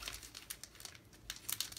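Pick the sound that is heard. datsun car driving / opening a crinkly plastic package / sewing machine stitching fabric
opening a crinkly plastic package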